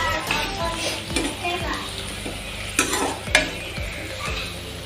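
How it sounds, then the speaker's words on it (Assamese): Fried onions with a cinnamon and cardamom paste are stirred in a pan, sizzling steadily while a spoon scrapes and taps the metal in irregular strokes, close and moderately loud. "এতিয়া মই ভালদৰে আকৌ লৰাই লৈছোঁ"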